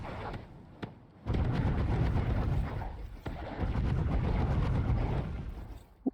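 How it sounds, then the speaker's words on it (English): Fireworks going off in the creature-catching action game Voidling Bound, a series of loud booming bursts and rumbling blasts filling most of the stretch, starting after a short quieter opening. "What's that firework?"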